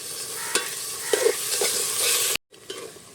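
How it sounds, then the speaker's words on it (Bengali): Masala with garlic and ginger paste fries in a pan for handi chicken. Close, vigorous stirring scrapes sound over a bright, continuous sizzle, with a brief drop-out near the end. "আদা রসুন বাটাটা দিয়ে এবারে মশলাটাকে খুব সুন্দর করে কষে নেব"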